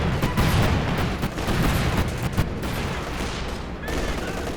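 Cluster bombs and machine gun fire in a Company of Heroes 2 battle, a dense, continuous barrage of rapid bursts and heavy booms that stays loud throughout the clip.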